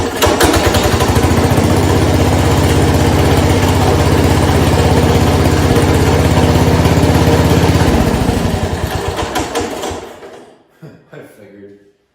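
Cub Cadet 127 lawn tractor engine running loud and close with a steady, even idle drone for about eight seconds, then winding down and stopping, leaving a few faint clicks and knocks.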